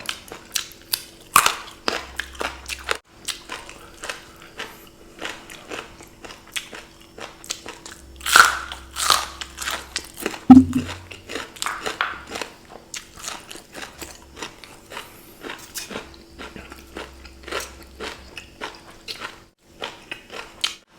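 Crispy eggplant is bitten and chewed up close, with loud crunchy bites spaced out over the clip and softer crackling chews between them.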